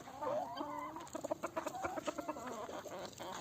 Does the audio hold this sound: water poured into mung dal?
no